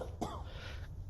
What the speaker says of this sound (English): We just want to make sure that we're not coughing into our hands like this